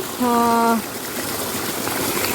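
Water rushes out of an opened channel in an arecanut plantation after the first rain, a steady broadband flow that continues throughout, with a short voiced tone near the start.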